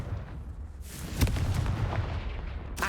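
A Confringo blasting curse from Hogwarts Legacy bursts with a booming explosive thump about a second in, rumbling on and followed by another sharp crack near the end, with no voice heard.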